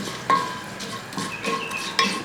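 Whole spices, cumin, cloves, cardamom, a piece of cinnamon and black peppercorns, stirred in a pan for a Kerala fish masala, giving a few close metallic scrapes and clinks over a light sizzle.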